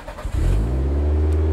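A Toyota MR2 fitted with a swapped minivan engine cranks briefly and catches, then settles into a loud, close, steady idle with a deep rumbling hum that continues to the end.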